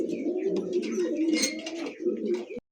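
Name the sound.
pigeons cooing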